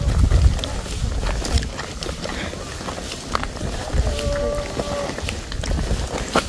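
Wind buffets the microphone in low, rumbling gusts, strongest at the start, over faint outdoor background noise by a river.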